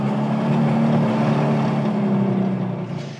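A restored 1964 21-window VW Samba bus fitted with a Porsche engine runs with a loud, steady, close engine drone that eases off slightly near the end.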